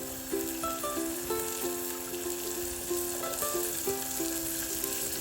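Green chickpeas sizzle in a gravy in a pan while being stirred, a steady close hiss with scraping stir sounds and faint musical tones running underneath.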